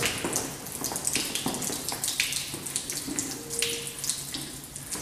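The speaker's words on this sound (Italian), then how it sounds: "è acqua che esce dal rubinetto" Water runs steadily from a tap at a school, a continuous close hiss of splashing flow that holds for the whole stretch without talk over it.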